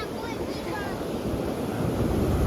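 A stormy sea surges in a continuous, heavy roar of waves, with wind buffeting the microphone, swelling slightly louder toward the end.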